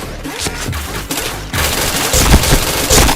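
Rapid bursts of gunfire in a shooting video game, dense and loud, with overlapping shots running continuously and growing heavier in the second half.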